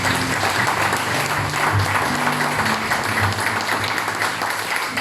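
A church congregation gives loud, sustained applause during a worship service, dense clapping at a steady level with faint voices mixed in.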